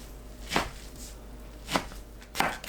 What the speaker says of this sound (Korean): 6cm 간격으로 썰어주세요